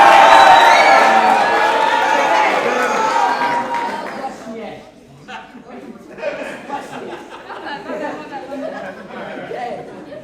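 A scout group around a campfire at Henson Scout Reservation cheers loudly at first, then the noise fades into scattered crowd chatter and laughter.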